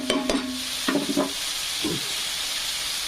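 Drumstick pods fry in oil and masala in a pan, with a soft steady sizzle under a few sharp clinks and scrapes of a spoon stirring at the start, then a quieter hiss.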